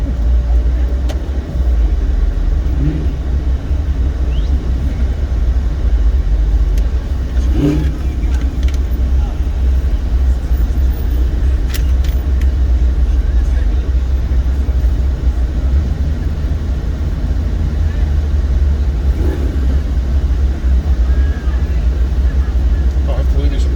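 Car engines rumble and rev continuously at a crowded street car show during the Dream Cruise, with occasional sharper bursts suggesting burnouts, while people talk nearby over the steady traffic noise.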